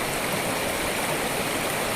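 Close by on a wet Wayanad trekking trail, a stream and waterfall churn in an unbroken, full-bodied rush that stays loud and even throughout.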